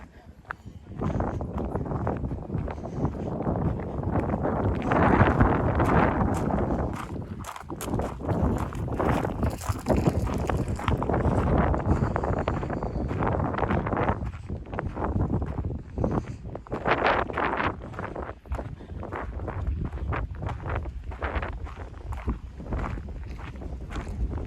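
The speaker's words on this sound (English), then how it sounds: "Ooh, it's windy." Gusting wind buffets the microphone outdoors among pine trees in Michigan's Upper Peninsula, a steady loud roar with surges and dips running throughout, with a voice heard at moments.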